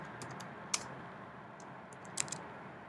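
Sparse keystrokes on a computer keyboard while typing a short word, a handful of light clicks spread out over steady background hiss.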